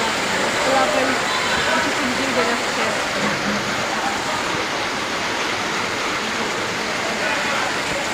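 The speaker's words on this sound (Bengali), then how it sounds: "আজকে অনেক বৃষ্টি করতেছে" Heavy rain pours down in a steady, dense hiss that stays even and unbroken throughout, loud and close with no distinct drops standing out.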